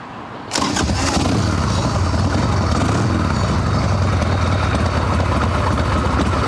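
An Evo Sportster chopper motorcycle with a loosely mounted carb plate fires up without choke after a brief crank, then settles into a loud, continuous, rumbling idle close by.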